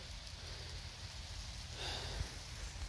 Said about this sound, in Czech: samozřejmě nám prší.